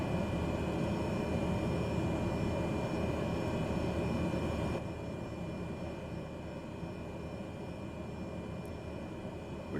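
Engine drone of a Cessna 208B in Microsoft Flight Simulator, a steady, loud turboprop hum with a constant whine that drops slightly in level about halfway through, with no talking.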